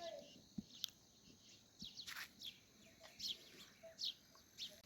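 House sparrows chirp in a foggy hill village, short bright calls scattered across a quiet background, some near and some farther off, with a few soft knocks between them.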